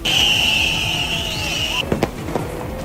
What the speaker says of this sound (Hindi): प्रदर्शनकारियों ने पुलिस पर चलते हुए पटाखे फेंके और आगजनी भी की।